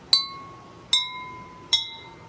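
Three bright, clinking taps on cups holding different levels of water, evenly spaced and close, each leaving a short ringing tone with no talking.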